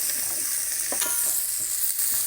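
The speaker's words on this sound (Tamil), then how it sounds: "நல்லா வணக்கி எடுத்துக்கிறோம்" Country chicken curry sautés in a pan with a steady, bright sizzle and several soft scrapes of stirring, close up and without talk.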